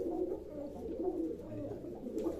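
Pigeons kept for sale in Baruipur coo in a continuous, close, rolling murmur of overlapping low calls, with no talking.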